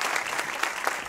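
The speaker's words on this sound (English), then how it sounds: "can y'all please give them a round of applause" An audience applauds at a television series screening Q&A, steady dense clapping throughout with no talk over it.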